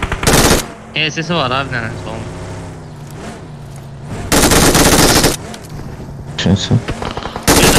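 Gunfire in the mobile game PUBG Mobile: loud bursts of automatic fire at the start, middle and end, with a sustained stretch of rapid shots, while players talk and call out over it.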